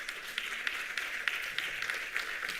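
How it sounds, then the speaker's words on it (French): A conference audience applauds steadily as the president of AGE Platform Europe is welcomed to the podium at an international colloquium on age-friendly communities. The clapping is a dense, even wash of many hands in a hall, moderately loud and without talk. "nous l'applaudissons chaleureusement"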